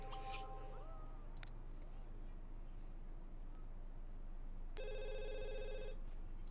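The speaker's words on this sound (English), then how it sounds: "I'm gonna have you answer the phone." A telephone rings in The Sims 1.5 game, with a short electronic ring near the start and another sustained ring near the end over a quiet background hum.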